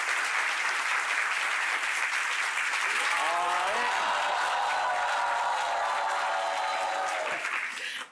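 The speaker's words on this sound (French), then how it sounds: "On les applaudit très fort." Loud, sustained applause from an audience, steady throughout with a voice rising briefly over it midway before the clapping fades at the end.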